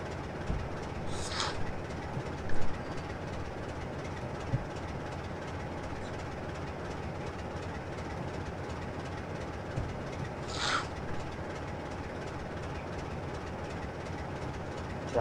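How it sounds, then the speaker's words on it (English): A locomotive idles and rumbles in Train Simulator on the East Coast Mainline, giving a steady low mechanical drone with a couple of brief hissing bursts and no talk. "wait for our locomotive to stop."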